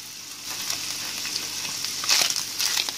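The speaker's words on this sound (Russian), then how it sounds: "вместе с грибами вот так вот обжариваем" Squid pieces frying with mushrooms in a pan give a steady, soft sizzle with brief louder crackling bursts as the food is stirred, close by and without talk.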